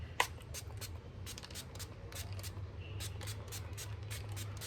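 Sugar Grand Finale Matte setting mist sprayed onto the face in a rapid run of short, soft spritzes, close and fairly quiet, with a brief pause between two groups of pumps.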